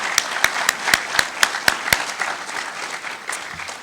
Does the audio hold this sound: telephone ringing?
no